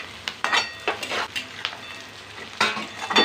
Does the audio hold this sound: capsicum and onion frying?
yes